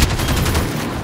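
Rapid bursts of gunfire from a shooting video game, loud and dense with overlapping shots filling the short moment, no voices on top.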